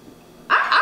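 A dog gives a single loud, close bark after a brief quiet moment, sharp and short with a slight tail.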